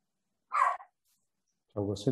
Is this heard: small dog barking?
yes